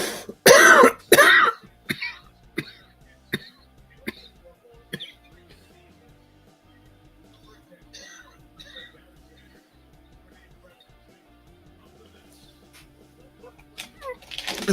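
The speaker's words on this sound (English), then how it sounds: "Sorry for the coughing and stuff," A man coughs hard several times in a quick cluster near the start, followed by quieter throat sounds and faint background noise, with another loud burst of coughing at the very end.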